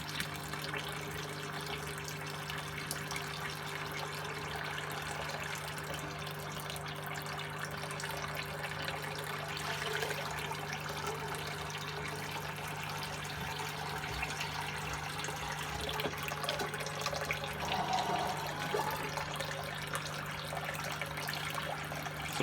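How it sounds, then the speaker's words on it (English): Water trickles steadily from a washing machine's drain pump into a container nearby, a continuous soft flow under a constant low mechanical hum, with no talking. "So the pump will stay on, so it'll keep trickling in here."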